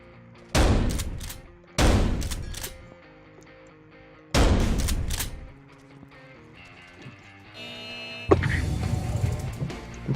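Shotgun blasts in the video game Paint the Town Red: three loud, booming shots spaced a few seconds apart, followed by game sound effects and a final burst of noise.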